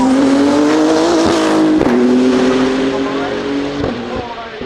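A hypercar, number 73, roars past on a race track, its engine note loud and close, rising and sweeping by before fading into the distance.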